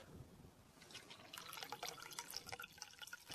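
Vegetable oil mixed with a splash of white spirit being poured into the fuel tank of a diesel Citroen Berlingo Multispace, a quiet steady glugging, trickling liquid stream that grows slightly busier, with no talk.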